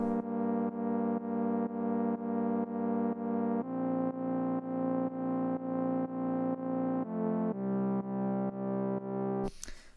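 Sustained synthesizer chords played in a steady rhythmic pattern of repeated pulses, shifting harmony every few seconds, ending with a brief noisy burst.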